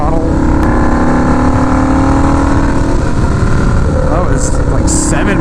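Turbocharged Harley-Davidson V-Rod motorcycle engine on a first ride, a loud steady drone from close by with rising revs near the end and wind roar throughout.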